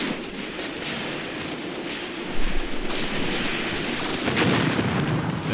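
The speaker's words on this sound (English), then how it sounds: "The German commandant firing away at us." Walther pistol fire in the World War II strategy game Graviteam Tactics, with scattered gunshots sounding amid a dense, continuous rumble of battlefield noise, some reports louder and closer than others.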